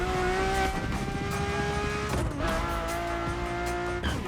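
A Ferrari F50 in The Crew Motorfest on PS5 roars with a loud, sustained engine note, shifting pitch with a brief dip midway and short tire squeal, continuous and close.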